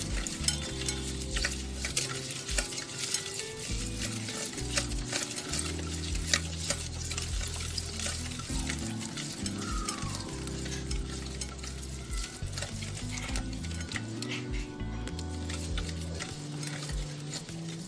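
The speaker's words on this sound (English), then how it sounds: "Then all you do is whisk, whisk, whisk. Combining the eggs and sugar is like a therapy." Eggs and sugar whisked by hand for red velvet waffle batter, a long steady run of fast, light rhythmic clicking and scraping strokes against the bowl, fairly quiet and close, with no talking.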